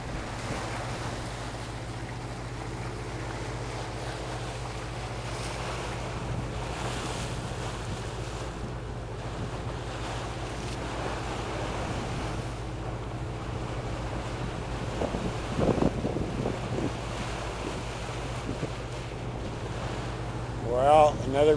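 Ocean waves and wind heard from a boat out at sea, a steady broad rush with wind buffeting the microphone throughout, swelling slightly louder toward the end.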